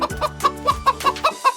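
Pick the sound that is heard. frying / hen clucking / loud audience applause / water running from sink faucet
hen clucking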